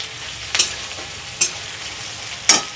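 Capsicum and onion stir-fry in oil for chili chicken: a constant sizzle close by, punctuated by three distinct spatula scrapes spaced about a second apart.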